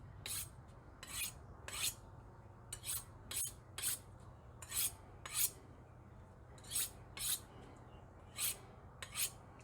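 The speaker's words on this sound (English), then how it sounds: "I'm going to go ahead and hone that on the smooth side real quick" A knife is honed on the smooth side of a honing rod in a run of quiet, evenly spaced rasping strokes, about a dozen short swipes with small pauses between them.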